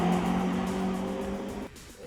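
Renault Clio 3 RS hatchback accelerating hard down the straight at Kyalami race track, a loud steady engine drone with rising harmonics that cuts off abruptly near the end.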